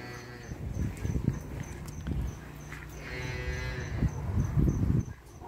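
Dairy cows in a corral in northeastern Brazil moo repeatedly, low drawn-out calls rising and falling at a moderate distance, with faint background rustle and no voices.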